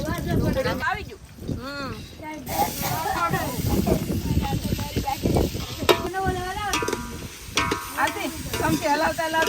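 Chopped chillies, tomato and onion sizzle in hot oil while being stirred for a village-style desi Maggi, with a steady hiss and scraping under nearly continuous close talking.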